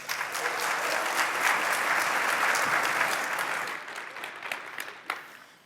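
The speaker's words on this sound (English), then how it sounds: "let's go ahead and give them a round of applause" A conference audience at PyCon 2017 applauds for the speakers, a dense sustained clapping from many hands that thins into scattered claps near the end.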